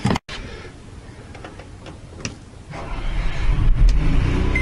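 An ONAN 4000 generator engine cranks and catches, the starter's ticking clatter giving way to a steady, rising mechanical rumble that settles into a loud, close run.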